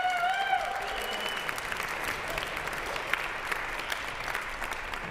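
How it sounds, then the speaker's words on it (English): A trombone concert audience claps for Stephen Long, dense applause that starts loud and settles into a steady roar, with a brief held tone fading at the start. "Big round of applause for Stephen Long."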